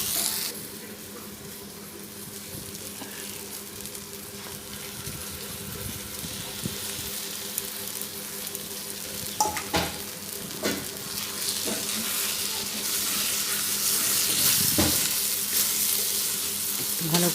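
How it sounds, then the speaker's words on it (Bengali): Fish curry spices sizzle steadily in a hot pan: cumin, mustard and poppy seed paste with salt, chili powder and turmeric. A constant, fairly loud frying hiss is punctuated by occasional sharper crackles and stirring scrapes. "ভালো করে ভেজে নেব।"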